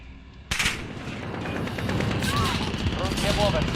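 Rapid bursts of automatic gunfire erupt suddenly and continue in dense volleys, with voices and radio chatter mixed underneath.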